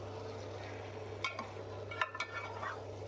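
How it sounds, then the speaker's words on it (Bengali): Jackfruit sautéed with spices in a pan gives a quiet, steady sizzle, with a few sharp scraping stirs of a spoon against the pan and a low hum underneath. "ভালো করে এবার কষিয়ে নেব আমার মশলার সাথে এঁচোড়গুলোকে।"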